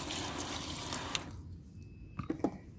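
Water splashes loudly over plant cuttings being rinsed, then stops abruptly, leaving a few faint drips and small knocks nearby.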